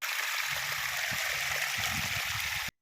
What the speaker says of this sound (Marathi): आपल्याला बोर लावायचे आहे आणि कांद्याला वगैरे पाणी सोडायचं आहे